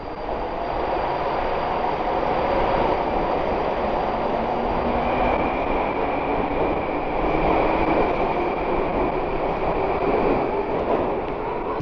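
A Tashkent metro train pulls out of the station, a steady, loud rumble of wheels and motors that holds for about twelve seconds, with a faint rising whine partway through and no voices.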